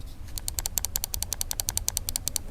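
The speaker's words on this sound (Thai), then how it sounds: "เมาส์ที่มีเสียง คลิก อันนี้คือเมาส์ปกตินะครับ" An ordinary, non-silent computer mouse is clicked rapidly over and over, giving crisp, sharp clicks in a quick, steady run, close up over a faint low hum, with no voices.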